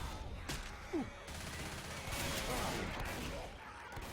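Scattered gunfire bursts from Left 4 Dead play out at moderate distance, with a few sharp shots and short volleys over a low, steady game background.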